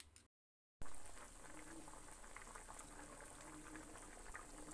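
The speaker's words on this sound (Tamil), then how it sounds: "இப்போது இந்த குழம்பு வந்து நல்லா கொதிச்சிட்ருக்கு" Papad curry gravy boiling in a pot, a steady bubbling simmer heard close up and fairly quiet, continuous after a brief silent gap near the start.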